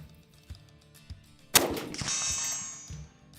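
A 7.62 mm SKS round strikes an armour steel plate with a single sharp, loud metallic clang and a bright ringing tail that hangs for over a second, preceded by a few faint knocks.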